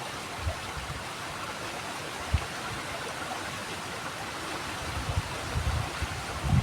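River water flowing steadily in a broadband continuous rush, fairly faint and even throughout, with a few soft low thumps near the middle and end.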